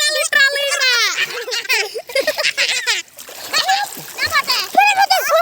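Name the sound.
children splashing in a village pond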